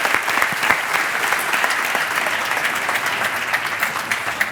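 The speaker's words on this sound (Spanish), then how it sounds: "Un fuertísimo aplauso para Raúl Jara, Albert Alamino y Marc Balcells." Audience at a talk with MotoGP rider representatives and an engineer gives sustained, even applause, a close, dense patter of many hands clapping with little else heard.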